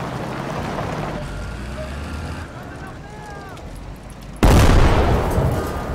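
A World War II-era US tank cannon fires in the video game Call to Arms Gates of Hell with a single sudden, loud, close blast. Engine rumble and a voice come before it, and the blast decays slowly.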